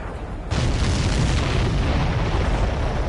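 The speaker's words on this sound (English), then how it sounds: "Did you see that explosion?" A supply ship blows up in a video game after a missile strike, a sudden loud boom that swells into a sustained, roaring rumble lasting several seconds with no voices.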